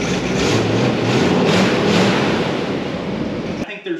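A 1962 Ford Thunderbird's 428 V8 idles with a very quiet exhaust, giving a steady low rumble and broadband hiss that runs nearly four seconds before cutting off abruptly.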